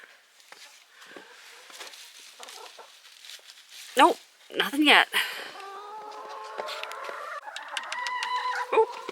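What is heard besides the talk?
chickens clucking in a coop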